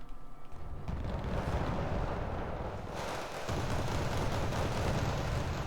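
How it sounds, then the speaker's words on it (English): A 120mm mortar fires from a base in a war strategy video game, with dense rumbling booms and a continuous roar of battle layered throughout, loud and close. "that's just the mortar firing from the base"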